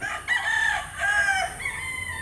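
A rooster crows close by, a loud, drawn-out call in two or three rising and falling bursts with no other sounds around it.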